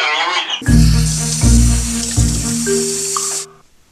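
In a video game dish-washing scene, a tap runs with a loud, steady gush that begins after a short tonal chime, holds for about three seconds and then stops abruptly.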